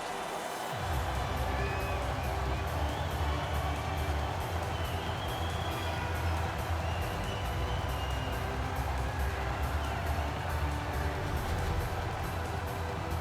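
Crowd in an NHL 19 hockey arena cheering after a home-team goal, a steady broad roar filling the whole stretch alongside low rumbling arena ambience.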